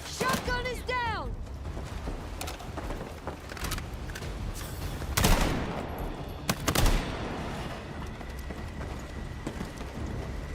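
Gunfire in the Battlefield video game crackles in scattered bursts and single shots, some close and sharp, others more distant, amid battlefield noise and a brief whistling sweep near the start.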